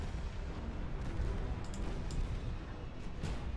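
Naval artillery from battleship main guns in the Ultimate Admiral: Dreadnoughts game, a dense continuous rumble of distant booms and heavy gunfire rolling without pause, with a few sharper cracks rising above the low roar.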